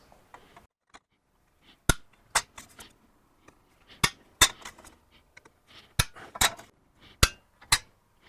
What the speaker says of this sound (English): I'm going to punch it a little bit smaller with a 3/16 punch